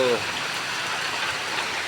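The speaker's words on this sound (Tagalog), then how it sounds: "Ang init kanina tapos eh lumakas ang ulan" Steady, dense heavy rain hiss fills the whole stretch, loud and constant, with a brief voice fragment right at the start, in Dolores, Quezon.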